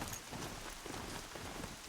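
Rain falling in the video game Horizon Zero Dawn, a faint, steady hiss of drops spread evenly across the whole short stretch, with no talk over it.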